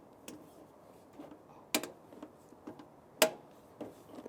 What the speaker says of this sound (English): It's clicking right past, so we're at the 36 foot-pounds of torque.